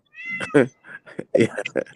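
A cat meows a few times in quick, vocal bursts, close and clear, with a person speaking briefly among the calls.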